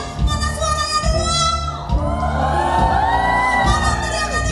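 Women in a church congregation cheering, whooping and shouting together as a loud crowd at a Christmas musical drama event, with high-pitched voices rising and falling continuously.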